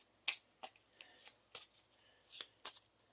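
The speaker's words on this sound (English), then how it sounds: "Now we'll shuffle our obligation into the encounter deck." Quiet, crisp riffles and snaps of playing cards being shuffled during a Marvel Champions card game, several short bursts spaced irregularly against a hushed background.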